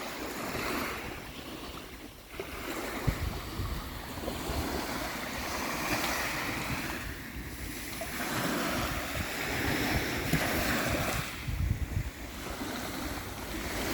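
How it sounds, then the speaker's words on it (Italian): Choppy sea waves roll and wash along the Ligurian coast under a passing rain front, a steady broad surge with gusts of wind buffeting the microphone and periodic swells building and breaking close by. "una perturbazione che sta increspando ancora di più il mare"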